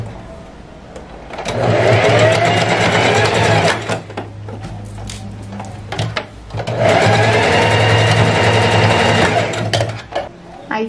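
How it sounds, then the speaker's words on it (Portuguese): A straight-stitch sewing machine closes the top of an elastic waistband on wide-leg pants, running in two long, steady bursts of close, loud mechanical whirring separated by a short pause. "Agora, na máquina reta, nós vamos fechar essa parte de cima do elástico, que ficou aberto na hora que transpassou"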